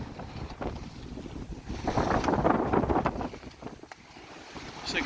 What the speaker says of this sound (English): just a nice breeze, probably force 5 in the gusts at least